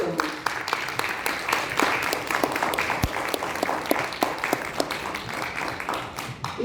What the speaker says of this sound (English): I want to take advantage of having the microphone to ask you to give a warm applause to Damien Bachou